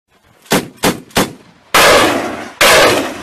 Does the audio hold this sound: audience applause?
no